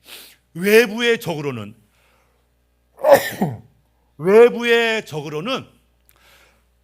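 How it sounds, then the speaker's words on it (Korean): Two sharp sneezes burst out during a church sermon, loud and close with silence between them, followed by someone speaking. "두 번의 재채기를 했네."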